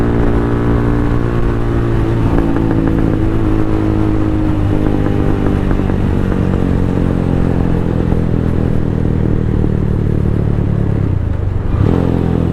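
A Venom X22R DF250RTS motorcycle engine runs close and loud, a continuous rough, throbbing drone with slight rises in revs, and no talk.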